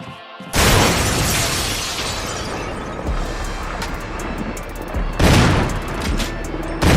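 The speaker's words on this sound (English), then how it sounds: "We hear this glass break and don't know what it is until it's a giant ass snake heading towards us." Glass shattering in the video game Resident Evil (2002), a sudden loud crash followed by a sustained noisy rumble and a second burst of breaking debris near the end, with no talk.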